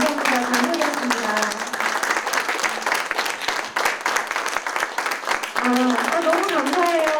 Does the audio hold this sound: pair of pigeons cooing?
no